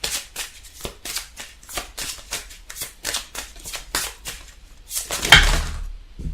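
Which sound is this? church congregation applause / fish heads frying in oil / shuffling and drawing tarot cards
shuffling and drawing tarot cards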